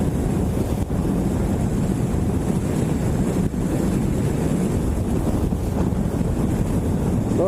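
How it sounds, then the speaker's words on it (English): Wind buffeting a microphone on a 2013 Kawasaki Ninja 650 riding outdoors, a constant loud low roar that fills the whole stretch with no pauses and no talking. "So wind's still getting kind of funny out here."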